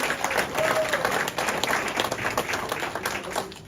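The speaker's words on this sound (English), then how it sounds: "Let's give a big round of applause to Jimmy Shaw, Lisa Bozeman." Applause from an audience at an AMVETS post show, continuous crowd clapping at moderate level with scattered individual claps standing out and a faint tone running underneath, tapering off slightly at the end.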